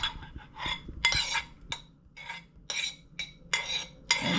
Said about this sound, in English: I know this spoon is probably keeping a lot of noise on the thing.